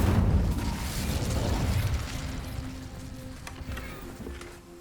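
Incendio fire spell cast in Hogwarts Legacy, a loud booming burst with crackling mechanical debris that fades gradually into a lingering low rumble and faint tones.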